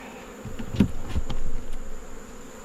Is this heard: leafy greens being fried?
no